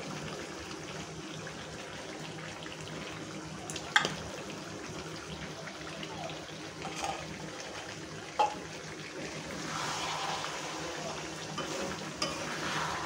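A raw mango and jaggery pickle simmers in a pan, a low continuous bubbling hiss with occasional clinks and scrapes of a spoon, the stirring growing busier toward the end.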